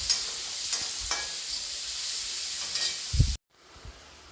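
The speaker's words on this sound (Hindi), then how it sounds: "अब मैं इस डाल दूँगी अनियन को और इसे मैं हल्का सा ट्रांसपेरेंट होने तक फ्राई कर लूँगी।" Chopped onions sizzle steadily in a hot pan while a spoon scrapes and stirs them, a close, continuous frying hiss that cuts off abruptly near the end.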